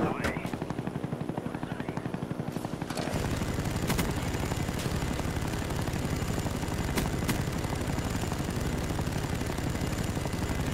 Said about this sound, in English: Is that your second chopper gunner?